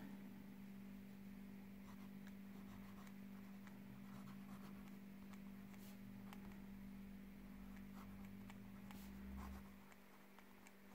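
Sheaffer Balance fountain pen writing a short sentence on paper: faint, close nib scratching in brief irregular strokes over a steady background hum, with no talk.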